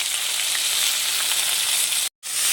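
Onion, garlic, ginger and cumin pastes fry in hot oil with bay leaves and whole garam masala, giving a loud, even hiss that cuts out for a split second near the end before returning.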